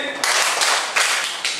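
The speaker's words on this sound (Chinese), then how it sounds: "来掌声三下" A primary-school class in Taiwan claps in unison three times during a maths lesson, giving three loud, close bursts of hand claps in a quick, even rhythm.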